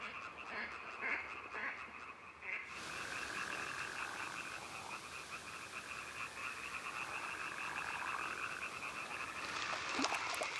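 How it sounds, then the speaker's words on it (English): Amphibians croak and chirp in a dense continuous chorus at dusk near water between the Black Forest and the Vosges, likely common frogs and European tree frogs, a steady layered pulsing that carries on throughout at low overall level. "Together they launch into a many-voiced concert of chirping and croaking."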